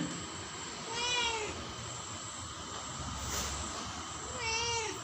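A cat meows twice, about four seconds apart, against a faint steady hiss of room background.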